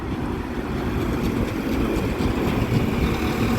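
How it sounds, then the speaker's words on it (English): Class 195 diesel unit 195018 on an East Midlands Railway service at Chesterfield, with a bad wheel flat on its leading end, gives a loud, steady close rumble with a rough, rhythmic clatter throughout. "With what sounds like a terrible flat on the front."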